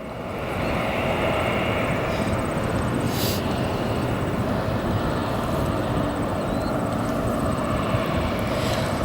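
An Icelandair airliner in a special 100-year Independence livery at O'Hare Airport gives off a steady, broad jet roar that holds constant and fairly loud for the whole stretch, with no pauses.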